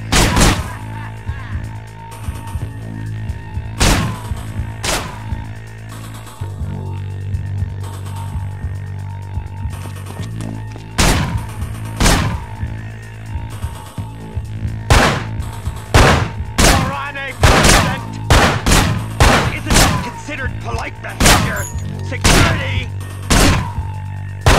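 Gunfire in the video game Manhunt: sharp, loud single shots spaced irregularly, then a quicker cluster of blasts near the end, over a constant low hum and game ambience.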